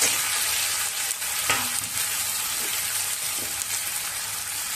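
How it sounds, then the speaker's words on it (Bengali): Thinly sliced onion frying in oil with nigella seeds and a bay leaf makes a loud, dense, continuous hiss, with a few faint stirring knocks underneath. "এবার দেব পাতলা পাতলা করে কেটে রাখা পেঁয়াজ"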